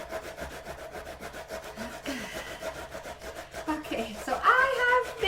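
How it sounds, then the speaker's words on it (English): Cauliflower is grated by hand in quick, rhythmic rasping strokes, a close, dry scraping that repeats steadily and grows slightly louder toward the end. "I have been grating my cauliflower"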